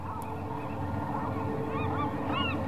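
A pelican in The Journey Down video game gives a few short, nasal honks over steady background game ambience, moderately loud and without speech.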